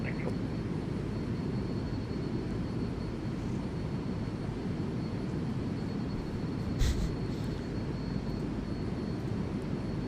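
A King Air 350 turboprop taxiing in Microsoft Flight Simulator 2020, a steady droning engine rumble with constant hiss throughout, close and even in level, with one brief click partway through.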